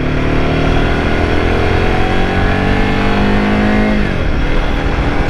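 A Royal Enfield Himalayan 450 motorcycle accelerates hard in second gear, its engine note climbing steadily in pitch, loud and close, before dropping sharply near the end as the revs fall.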